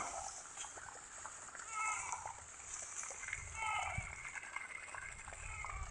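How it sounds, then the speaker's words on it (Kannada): Irrigation water flows and splashes into a sorghum field, a steady low gurgling rush with light splatter under outdoor wind noise, while a person talks over it. "ಇಲ್ಲಿ ನೀರು ಚಾಲು ಆಗ್ಯಾದ ನೋಡಿ"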